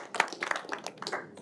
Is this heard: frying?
no